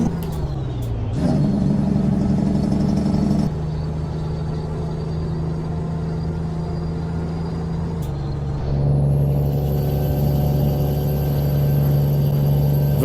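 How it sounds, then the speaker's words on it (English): Heavy truck in American Truck Simulator coasting downhill on the engine brake, a loud sustained low drone that shifts pitch at a few points, with sharp air-release hisses near the start and midway; no talking. "If it wasn't for the need of the engine brake, I probably could have just turned the damn engine off and just coasted all the way down"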